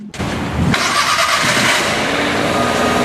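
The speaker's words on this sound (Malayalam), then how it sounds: "വണ്ടി ഒന്ന് സ്റ്റാർട്ടാക്കിയിട്ട് നോക്കാം" A Maruti Suzuki 800 fitted with a valvetronic exhaust system cranks briefly and catches, then settles into a loud, steady, close-up idle.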